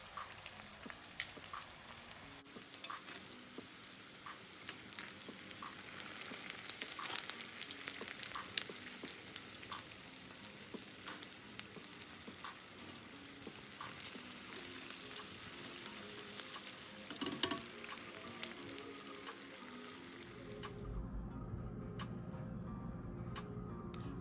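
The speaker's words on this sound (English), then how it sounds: "So now they are in the fryer, and they really don't take that long to get done." Philly steak egg rolls deep frying in a fryer give off a steady, crackling sizzle with dense bubbling pops, continuous and fairly close, with a brief louder burst near the end before a lower rumble takes over.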